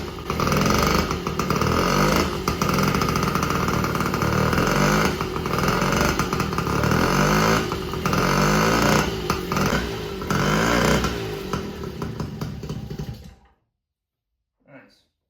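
A 1950 Indian Papoose motorcycle with a 3-horsepower two-stroke engine runs steadily up close, a loud buzzing drone with slight rise and fall, then cuts off abruptly into silence near the end.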